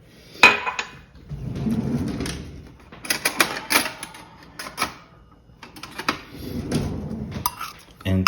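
A utensil clinks and scrapes in a bowl while melted butter and almond flour are mixed for a keto cheesecake cupcake base, irregular close knocks in bursts, with a voice talking in between.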